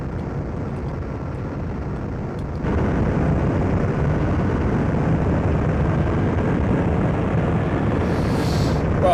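A jet fighter's afterburner in an Amiga flight game gives a steady, dense roar that jumps louder a few seconds in and then holds constant to the end.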